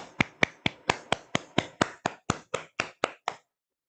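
Fourteen evenly spaced sharp claps or snaps close up, steady at roughly four per second, ending in silence after a group meditation session.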